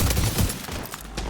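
M1A rifle fire in The Division 2 shooter, a dense, rumbling stretch of gunshots and battle noise that stays loud and close throughout, with no talking.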